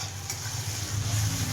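Onion, garlic and tomato being sautéed in a pan for duck curry make a close, steady sizzle with a low hum beneath and a brief scrape of stirring.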